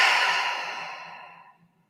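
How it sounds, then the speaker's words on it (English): A single deep, slow exhale in a quiet room during a calming exercise, a soft breathy rush that fades gradually over about two seconds, close and gentle with no talking. "Taking another deep breath in and out."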